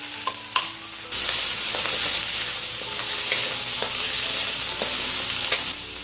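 Mushrooms tossed into a pan with onion and green chili start sizzling loudly after a brief quiet start, with steady frying hiss and a few scattered stirring clicks; no one speaks.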